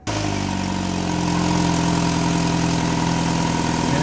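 A Chevy Cruze engine idling after an exhaust flange gasket replacement, a steady, even mid-pitched hum running continuously from the start, close and fairly loud with no voices.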